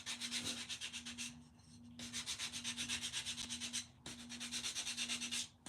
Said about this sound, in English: So I'm just using a detail sander. It's a Gator detail sander.